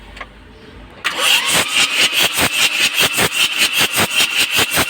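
A diesel engine cranks and catches after injection pump repair, then runs with a loud, steady, rhythmic knocking idle close by.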